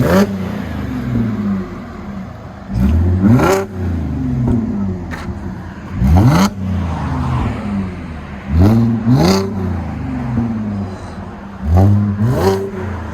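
A supercharged 3.0L V6 Audi A7 with an aftermarket exhaust backs out, its loud engine revved in repeated rising bursts, each blip climbing and falling back to a rumbling idle, close to the car with no speech.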